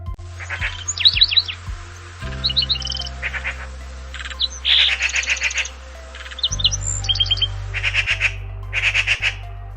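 Several birds chirp and squawk in short bursts against a low steady hum in a winter park, calls repeating irregularly at close to moderate distance.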